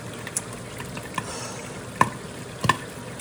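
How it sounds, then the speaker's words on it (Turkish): Minced meat frying with chopped onions and peppers in a home kitchen pan, a steady close sizzle with a few sharp crackles and pops standing out, no talking. "Burada kıymamı kavuruyorum."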